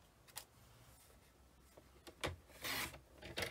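Paper being trimmed to cut an orange edge off a sheet for a scrapbook layout, heard as several faint scraping, rasping cutting strokes with short gaps between them and no voices.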